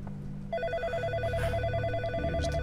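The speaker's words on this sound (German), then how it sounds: "Hier ist das Telefon." A telephone rings in the horror video game In Sound Mind, giving a steady repeating electronic bell pattern in loud, clear bursts over a low ambient hum.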